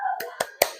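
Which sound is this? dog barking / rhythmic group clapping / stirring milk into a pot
rhythmic group clapping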